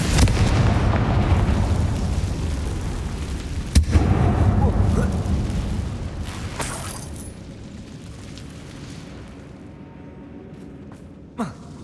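A Confringo fire spell bursts in a dark mine in Hogwarts Legacy: a sharp blast, then a long rumbling roar that slowly fades, with a smaller crack near the end.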